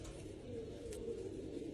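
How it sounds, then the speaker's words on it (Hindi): A well-formed pigeon with strong bones and good plumage gives a soft, low coo, faint and brief against quiet background noise. "बेहतरीन कबूतर है।"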